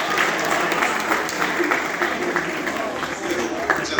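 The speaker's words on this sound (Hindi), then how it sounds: "ताली हो जाए भाई के लिए" Applause for a student who answered a question in a crowded classroom, many hands clapping steadily and closely for several seconds with voices mixed into the crowd noise.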